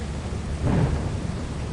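Stormy weather in the video game Lethal Company: a low thunder rumble swells midway over a constant hiss of rain, with no talk.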